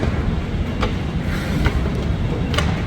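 A metro train station carries a low, continuous rumble of rail traffic, with a few faint metallic clicks sounding through the steady background noise and no one speaking.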